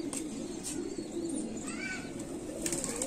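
Pigeons coo softly in a loft of show pigeons in R.S. Pura, Jammu, low rolling calls sitting over a steady hum of ambient noise, with faint higher chirps and rustles scattered through.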